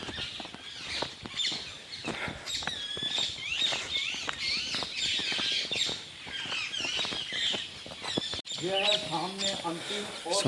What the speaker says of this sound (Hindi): आवाज़ सुन रहे हो तुम चिड़ियाओं की?